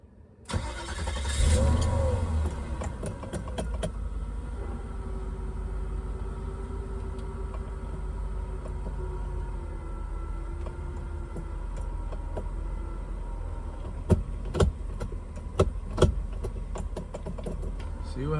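A Mercedes E420 with a manual transmission swap starts up and drives off, a steady mid-pitched engine hum inside the car, with a few clicks and knocks near the end.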